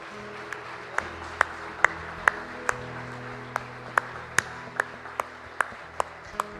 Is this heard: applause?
yes